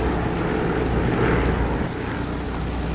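An aircraft comes in to land in the DCS flight simulator game, canopy open with gear and flaps down, producing a continuous loud propeller-engine drone that fills the whole stretch without any talk.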